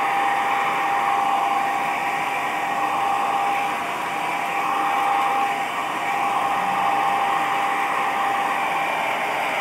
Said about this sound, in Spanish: el secador no está calentando bien.